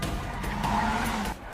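A car accelerating hard with its tires skidding and squealing, a continuous loud screech with engine roar over a short burst.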